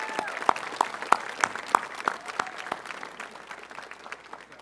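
Applause at a high school honors assembly for a senior athlete, sparse distinct claps over a faint crowd bed, with a few whistles or cheers riding above, moderately far and quiet.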